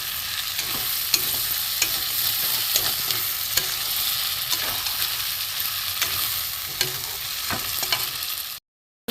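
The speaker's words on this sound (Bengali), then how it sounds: "আলু দিয়ে একটু ভালো করে কষিয়ে নেবো আর একটু।" Fried potatoes stirred and sautéed into a homestyle chicken curry in hot oil: a steady close sizzle with repeated scraping stirs and light clinks running throughout, then a sudden cut to near silence just before the end.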